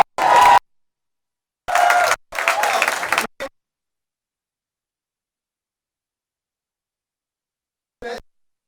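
An audience at a film festival claps and cheers in short loud bursts separated by long silences, with a brief final burst near the end.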